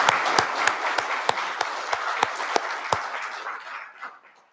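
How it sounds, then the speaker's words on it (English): Conference audience applauding, a dense wash of clapping with several sharp individual claps standing out, holding steady then fading away near the end. "So another round of applause, please, for Anne."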